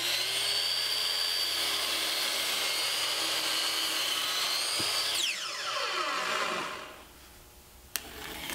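Saw crosscutting a reclaimed lumber beam to length for a church altar, a steady high whine that drops sharply in pitch as the blade spins down, followed by quieter room sound and a single sharp click.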